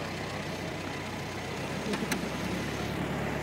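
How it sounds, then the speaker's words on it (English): Steady drone of a Model T Ford engine heard from inside the car while riding, a constant broadband rumble with low hum throughout and a brief rattle partway through. "Riding in the Model T Ford."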